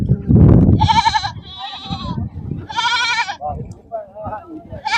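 Several loud Barbari goat bleats from close by, wavering and nasal, interspersed with other animal noises and a person talking nearby at a goat market.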